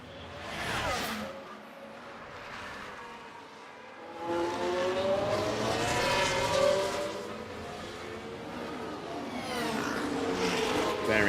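Formula 1 race cars rushing past during a replayed overtake at Monaco in F1 Manager 2013, engine whines rising and sweeping by at moderate level, with someone talking over them.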